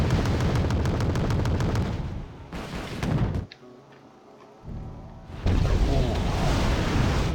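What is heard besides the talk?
airstrike explosions in the video game WarGame Red Dragon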